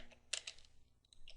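Brief, quiet tapping of fingers on a computer keyboard, a handful of soft clicking keystrokes in irregular clusters with no voice over them.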